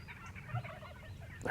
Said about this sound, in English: There's probably at least 60 birds on the ground already.